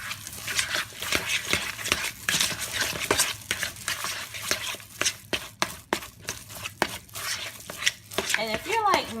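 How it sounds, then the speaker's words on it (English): Salmon croquette mixture with egg is worked by hand in a bowl with a utensil, making close, irregular wet squishes, scrapes and clinks in a continuous busy rhythm. "So you're just going to mix it all together."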